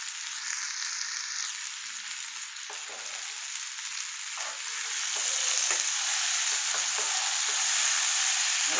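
Tapioca stir fry being stirred in a hot pan, a steady loud sizzle of frying with scraping stir strokes, alone with no voices.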